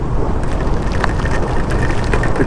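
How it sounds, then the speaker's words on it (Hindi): Light rain falls during intense heat in Pune, a steady, loud wash of patter with scattered drops standing out, continuous and without any voices. "बारिश तो बारिश है।"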